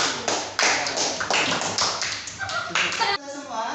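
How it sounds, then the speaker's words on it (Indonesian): A classroom of students claps for group 1, a burst of brisk overlapping hand claps up close, followed at the end by a voice starting to speak. "tepuk tangan untuk kelompok 1"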